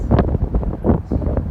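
Strong wind buffets the microphone in loud, uneven low rumbling gusts, close and continuous throughout, at the canyon near Lower Falls in Yellowstone.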